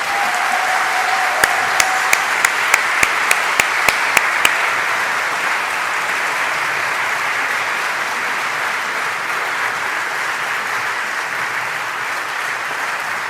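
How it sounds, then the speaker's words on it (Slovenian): Sustained audience applause fills a hall at a municipal holiday ceremony in Domžale after a musical performance, steady and dense throughout, with a run of sharp clicks early on. "Še en aplavz predlagam."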